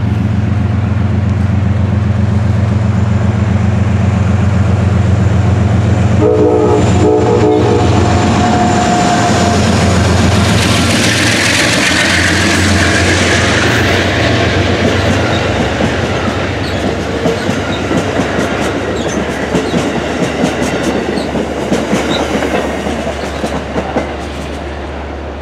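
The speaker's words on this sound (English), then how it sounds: "There it goes, Amtrak Empire Service." Amtrak Empire Service train rushing through Croton-Harmon station, a loud sustained roar with clattering wheels over the rails that holds near and slowly fades toward the end.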